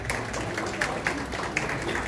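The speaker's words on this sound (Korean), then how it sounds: "박수 부탁드립니다." Wedding guests applaud as the bride's father is invited up to make the marriage declaration, a steady patter of claps with a few sharper individual claps standing out, heard at moderate distance.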